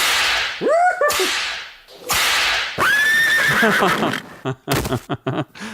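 A horse in Red Dead Redemption lets out loud, close neighs and whinnies between sharp whip cracks, repeated several times with snapping strikes clustered toward the end.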